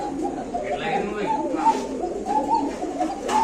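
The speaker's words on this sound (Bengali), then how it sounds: "এই যে ককার ডাক" A male pigeon coos repeatedly in soft, throaty bursts, close by, with a steady murmuring background.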